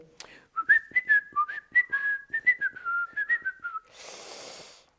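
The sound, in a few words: man whistling a tune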